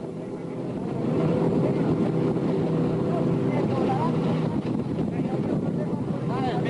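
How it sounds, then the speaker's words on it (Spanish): Jet ski engine running at speed while riding in Antarctic waters, a steady loud motor drone with rushing water and wind buffeting, close throughout, with a voice talking over it. "Fue un poco difícil grabar así, andando en este moto de esquí"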